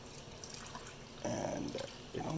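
Water is poured into a pan holding leftover pepper sambar mix, a soft splashing and trickle in two short bursts over faint kitchen background.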